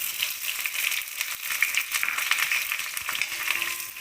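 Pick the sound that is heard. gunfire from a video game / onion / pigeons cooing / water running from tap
onion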